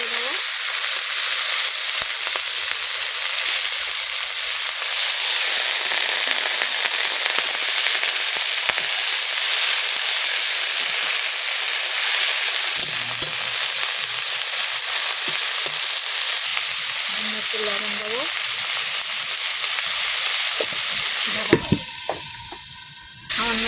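Chopped, washed cabbage leaves fry in a pan with dal, producing a loud, continuous sizzling hiss for about twenty seconds, with a few soft stirring scrapes and some clattering handling right at the end.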